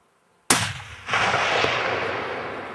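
A single sharp rifle shot cracks out nearby while hunting sika deer in wild New Zealand, followed by a second burst and a long rolling echo that fades slowly across the terrain.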